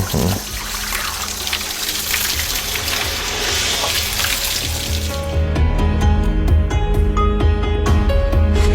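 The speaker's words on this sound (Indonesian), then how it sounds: "Tolong siram air, Pak. Siram." Water is poured and splashes steadily over smoking ground at a grave site in West Java, a continuous close wash that turns to heavier, louder gushing toward the end.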